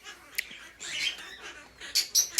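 Pet birds chirp and squawk nearby in short, sharp bursts, scattered irregularly, with quiet gaps in between.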